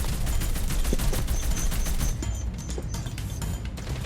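Gunfire in the mobile shooter Call of Duty Mobile rattles loud and dense, rapid automatic bursts overlapping continuously, slightly thinning after the midpoint.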